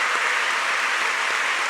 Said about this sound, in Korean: 함께 따뜻한 박수로 환영하겠습니다